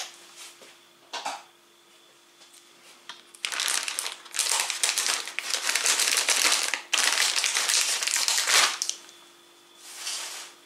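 Candy wrappers on Coffechino tiramisu-flavored sweets are torn open and handled, giving close, loud crinkling and rustling packaging noise in uneven bursts that build into a long sustained stretch, with no talking.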